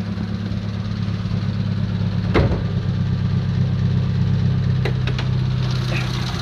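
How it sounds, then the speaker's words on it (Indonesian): A 1.6-litre four-cylinder fuel-injected Mitsubishi Lancer engine idles steadily at close range after starting, with a low, even hum, interrupted by a couple of brief clicks or knocks. "Starterannya mudah, enak, RPM nya tinggi, nanti dia turun sendiri."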